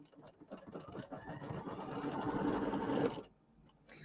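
A sewing machine stitches quilt pieces together with raw edges and right sides aligned, its fast whirring motor rising steadily for about three seconds before stopping, under faint background noise.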